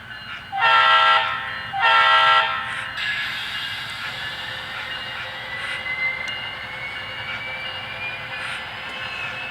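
Two loud, blaring horn blasts close by, then a steady whirring rumble of a small train running along its track for several seconds.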